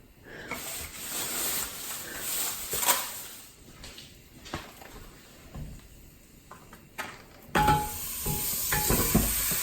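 Pork ribs dropped into a hot pot for rib soup set off a steady hiss and sizzle, with a louder burst of hissing near the end and a few clatters around it.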